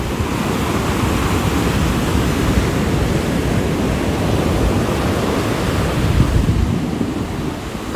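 Ocean waves breaking on a beach in Rio de Janeiro, a loud, steady roar of surf with continuous wash and some wind buffeting, swelling slightly near the end.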